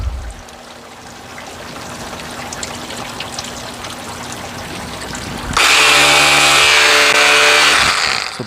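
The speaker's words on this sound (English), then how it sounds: "Give it a second to drain" Water drains out of a Ryobi EZ Clean power cleaner with a steady pouring rush. A quieter stretch comes first, then a loud, close gush of water rises sharply and runs on with a faint mechanical hum beneath.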